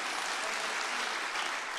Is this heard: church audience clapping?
yes